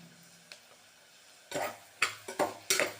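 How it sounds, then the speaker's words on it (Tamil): Vegetables for sevai are sautéed and stirred in a pan, with a faint sizzle and several sharp scraping clinks of the spoon against the pan in quick succession, close by and without talk. "அதை தான் இதோட போட்டு நல்லா வதக்கின்னு இருக்கோம்."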